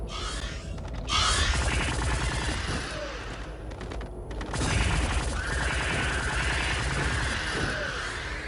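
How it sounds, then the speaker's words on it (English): Rapid bursts from the Tetrion pulse rifle, an alien energy weapon in the Star Trek Voyager Elite Force shooter, fire in sustained volleys with mechanical clatter and brief pauses, loud and close over game ambience. "I'm using the Tetrion pulse rifle and it's an alien weapon"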